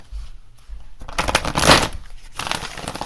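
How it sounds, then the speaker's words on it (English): A deck of tarot cards is shuffled up close, with a quiet pause before a burst of rapid papery riffling and crackling that swells, dips and then resumes briefly. "We'll do one more shuffle."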